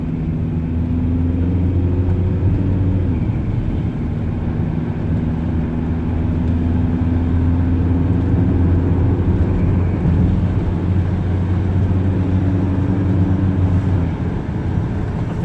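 A Land Rover Freelander diesel car accelerating, heard from inside as a steady low engine drone with harmonic tones that rise, drop at gear changes and climb again over about fifteen seconds, with no talking.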